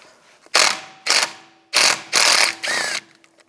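A ratchet with a 6mm Allen socket removing a screw during a rear brake rotor and pad replacement on a 2004-2010 BMW X3, clicking rapidly in five short bursts, close and loud, with brief quiet gaps between each turn.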